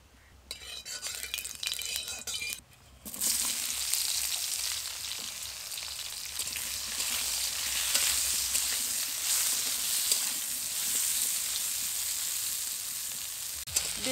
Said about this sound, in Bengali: বেগুনগুলো সব লালচে করে ভেজে নিয়েছি।